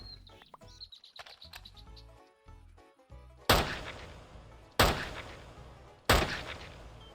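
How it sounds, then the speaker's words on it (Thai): Three loud, sharp gunshots from a pistol ring out at even intervals, each with a booming decay, after a stretch of quieter chirpy Minecraft sounds. "ได้ยินเสียงปืน"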